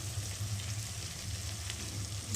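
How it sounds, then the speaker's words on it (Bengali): Ground spices frying in a pan with onions, a soft, even sizzle with faint crackles, close but low in level, a low hum underneath and no one talking. "দেখো মশলাটাকে ভালো করে ভাজা ভাজা করবো একটু"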